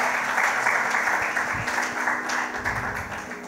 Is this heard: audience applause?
yes